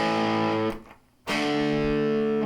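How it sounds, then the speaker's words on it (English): An electric guitar strums loud, buzzing chords through a distortion channel in a rock lesson, a sustained chord cut off briefly and then struck again, close and with no talking. "Now you can hear a little bit of distortion."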